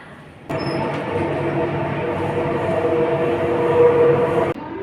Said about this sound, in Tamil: மெட்ரோவில் வந்திருக்கோம் கோயில் போகிறதுக்காக